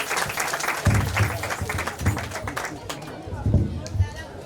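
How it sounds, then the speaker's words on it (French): Applause from an audience at a school prize-giving ceremony in Nkongsamba, moderately loud clapping mixed with crowd chatter and thumping low knocks, uneven and busy rather than a clean ovation. "Applaudissons très fort pour Maître Dimouna."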